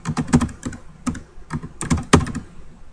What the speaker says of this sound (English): Here's where you can type in